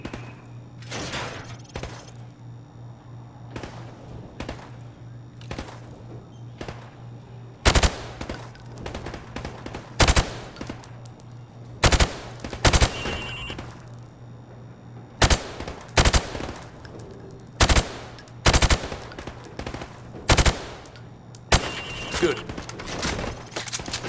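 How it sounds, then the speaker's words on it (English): Repeated gunfire in Call of Duty Modern Warfare Remastered as targets are shot through thin plywood on a training range, with loud bursts and single shots spaced irregularly over a steady low background hum. "I want you to shoot the targets through the wood"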